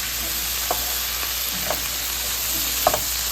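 Potatoes being stirred into chorizo in a frying pan, with a steady sizzle and a few soft scraping clicks of the spoon against the pan.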